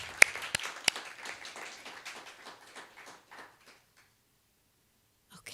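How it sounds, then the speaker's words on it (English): Applause from a cabaret audience at the Canmore Festival of Art and Creativity, a crowd of scattered claps with a few sharp close ones, fading out after about four seconds into near silence. "I just want to give her one more round of applause for all that she does for music in this place"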